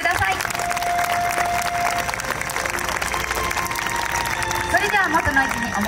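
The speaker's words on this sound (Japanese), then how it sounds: "大きな拍手をお送りください。" Festival audience applause at an outdoor awards ceremony for a dance festival finale, sustained clapping from a crowd, with a voice over the loudspeaker talking across it.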